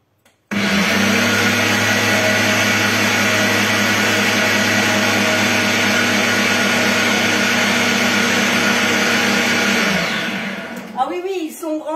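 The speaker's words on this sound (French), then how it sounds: "je vais juste mixer. Alors je vais faire du bruit" An electric blender grinding macaron ingredients into a fine powder roars loud and steady for about nine seconds, then winds down. A voice can be heard faintly toward the end.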